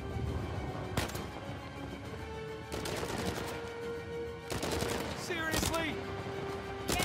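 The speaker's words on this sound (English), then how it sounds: "His aim doesn't change, he just keeps firing." Enemy gunfire in Uncharted 4 on crushing difficulty, sharp bursts of shots at irregular intervals over a background hum, with brief metallic whines.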